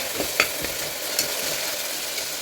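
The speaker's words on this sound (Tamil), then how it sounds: "இப்போ நல்லா தக்காளி நல்லா வதங்கிடுச்சு பாருங்கள் ஜூஸியாக நல்லா வதங்கிடுச்சு" Tomatoes sautéing in a pan with a steady, bright sizzle while a utensil stirs them, scraping lightly at intervals, close up and without voices.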